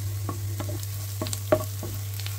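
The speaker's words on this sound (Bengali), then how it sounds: "পেঁয়াজটা এমন আধা ভাজা মতো হয়ে গেছে।" Onions fry in a pan with mushrooms, a low steady sizzle broken by a few scraping stirs, one slightly louder than the rest, over a constant background hum.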